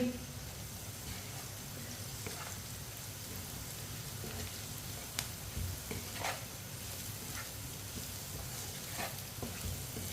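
Okra (bhindi) frying in a pan with red chili and turmeric while being stirred: a steady, close sizzle with scattered scraping clicks from the stirring, and no voices.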